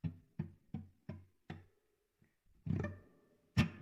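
Muted guitar strings are struck percussively, five evenly spaced dull thuds, then a pause and two louder scratchy strums, close and clear.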